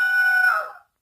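Wilhelm scream sample with its pitch stretched into a steady, tuned, buzzy tone lasting about half a second before it slides downward and quickly fades out.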